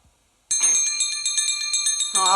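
Bells ringing at Fraggle Rock, a bright clear peal that starts suddenly after a short silence and keeps ringing steadily and fairly loud, with a voice joining near the end.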